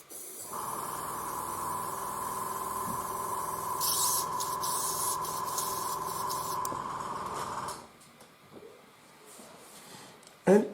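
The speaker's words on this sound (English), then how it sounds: "So just cleaning the airbrush." An airbrush being cleaned sprays in a steady, close hiss of air for several seconds with brief bursts of sharper spray, then cuts off into quiet handling noises and a final short clatter.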